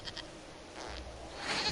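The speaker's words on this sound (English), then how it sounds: "we discovered this man attacking the building with a" A goat in the video game Dragon Age Inquisition lets out a few short, faint bleats over quiet ambient game sound.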